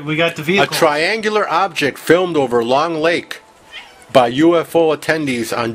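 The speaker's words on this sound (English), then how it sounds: "if you heard the cat in the background" A pet cat meows repeatedly in long, wavering, close cries that overlap and interrupt someone talking during a radio podcast.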